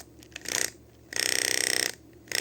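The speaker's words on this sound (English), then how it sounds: "So let's put the motors on and see if they vibrate." Vibration motors in a repaired PS2 controller rumble in short bursts, a brief buzz followed by a longer, louder pulsing drone, then another burst starting, close and loud with no talk.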